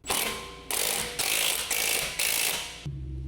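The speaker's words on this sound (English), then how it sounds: "Use the large 19mm deep socket with the large electric impact wrench. Tighten all the lug nuts." An electric impact wrench with a 19mm deep socket tightens lug nuts on a 2019 Mazda 3 sedan, five loud rattling hammering bursts in a row, each about half a second long, close and alone.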